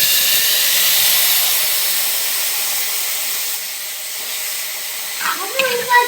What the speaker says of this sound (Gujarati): પછી છે ને શાકને મારી દેવાનો વઘાર આવી રીતે.